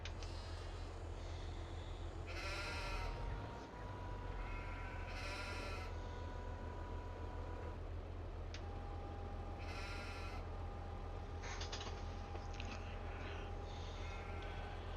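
Sheep bleat in a few separate bursts in the video game Farming Simulator 22 over a steady low engine-like drone, with thin tonal hums running through the background.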